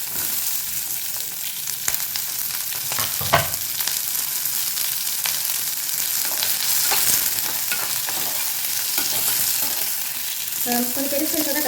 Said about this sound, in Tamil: இந்த எண்ணெயிலேயே வந்து நம்ம இப்போது கட் பண்ணி வச்சோம் இல்லையா பெரிய வெங்காயம் ஒரு வெங்காயம் போட்டுக்கலாம்